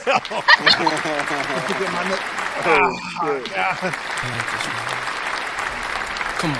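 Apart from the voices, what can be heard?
applause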